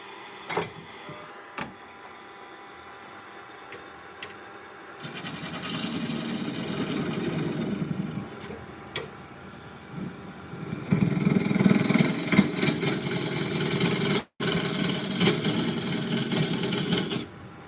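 A wood lathe turning a tenon on a green wood bowl: a quiet motor hum at first, then louder, rough scraping bursts of tool on spinning wood, with a brief cut-out near the end.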